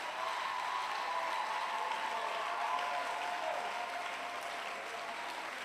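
A church congregation claps in sustained, even applause that fills the hall at moderate loudness, tapering slightly toward the end, with no clear talking.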